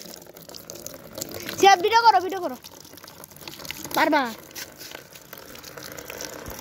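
Water starts flowing from a pump-fed tap once the switch is turned on, a steady rushing wash running under voices that talk loudly over it.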